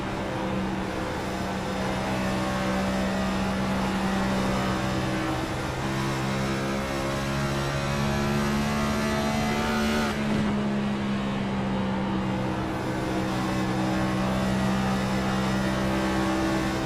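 Race car engine in the sim racing game iRacing, a steady droning tone held through a long off-throttle stretch, with a brief dip around the middle before the continuous hum resumes, loud and close.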